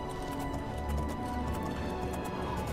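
A horse gallops in the video game The Elder Scrolls IV: Oblivion, a steady rumbling run with rhythmic hoofbeat thuds over constant background sound, with no clear talk.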